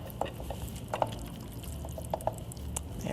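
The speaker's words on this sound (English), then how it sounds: "now I'm going to add this to my egg noodles." A chicken dish being poured and scraped into egg noodles in a heavy pan, giving faint wet plops and soft drips with a few light clinks of utensil on the pan, close by and without talk.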